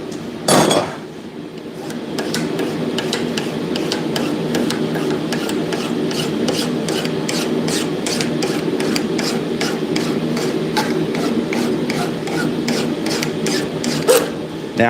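A hand file is draw-filed along a blacksmith-forged knife blade, producing close, even rasping strokes in a quick regular rhythm, with a couple of louder metallic knocks near the start and end.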